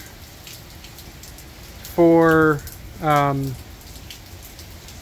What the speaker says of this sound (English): It has been raining like this